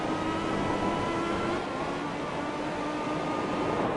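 Race cars rev hard as they crest a hill on a racetrack, a steady, loud engine roar with high-pitched whine that holds at high RPM throughout, with no speech.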